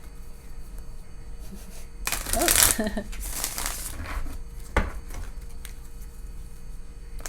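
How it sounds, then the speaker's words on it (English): A brief papery flutter of cards being riffled together, loud for about a second and then fading into quiet room noise, with a short exclamation nearby. "Couple more shuffles."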